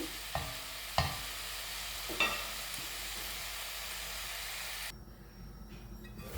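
Mutton kothu sizzles and fries in a pan while being stirred, with a few sharp scraping clacks of the spatula over a steady frying hiss, then a quieter stretch toward the end.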